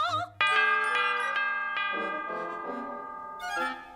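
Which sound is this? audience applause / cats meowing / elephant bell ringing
elephant bell ringing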